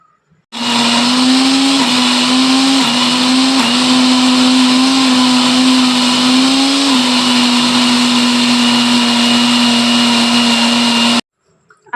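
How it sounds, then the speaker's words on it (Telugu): A kitchen mixer grinder runs loud and steady, blending fenugreek-leaf and bottle gourd chutney in small batches, its motor whine holding an even pitch with slight dips before cutting off abruptly near the end. "అంతా ఒక్కసారి కాకుండా కొద్ది కొద్దిగా వేసుకొని మిక్సీ పట్టుకుంటున్నా."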